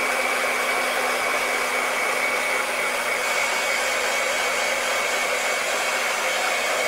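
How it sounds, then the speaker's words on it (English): A hot-air hair dryer blows steadily and loudly while drying an airbrushed 1/10 scale Tamiya RC car body shell, giving a constant close whooshing roar with no breaks. "Now this is quite a high, hot air dryer, hair dryer."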